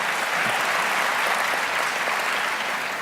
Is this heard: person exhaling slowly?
no